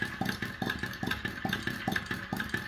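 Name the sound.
gas-heated two-cylinder flame eater (vacuum) engine running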